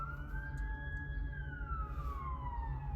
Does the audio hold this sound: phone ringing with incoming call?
no